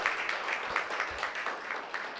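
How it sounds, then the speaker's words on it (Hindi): An audience at a spiritual discourse claps for the guru, a dense, steady patter of many hands at moderate distance, somewhat faint, with no voices standing out. "गुरुजी के लिए जोरदार तालियां होनी चाहिए"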